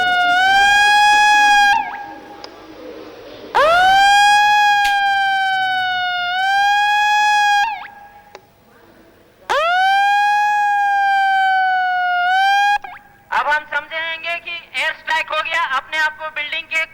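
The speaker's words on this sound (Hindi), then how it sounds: "अपनी कबीर सायरन की आवाज" A Tata company civil defence siren sounds during an air-raid mock drill in Jamshedpur: loud, long wails that rise and hold, repeated several times with short gaps, then a rapid pulsing warble at the end.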